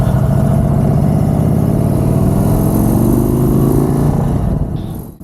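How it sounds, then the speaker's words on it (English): Indian Sport Chief motorcycle accelerating hard with a loud, throaty engine note rising steadily in pitch, close up, before fading away at the end. "Makes a nice sound on acceleration"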